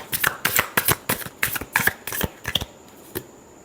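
A deck of tarot cards is riffled and shuffled up close in a quick run of crisp, fluttering bursts that fade to a last soft tap.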